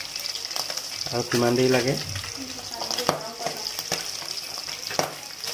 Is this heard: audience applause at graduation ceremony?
no